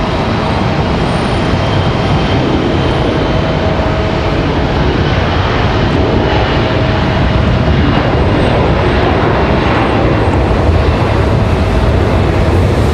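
Delta CRJ regional jet rolling out on departure at Raleigh-Durham International Airport, a steady, loud broadband jet roar that holds throughout with no talk over it.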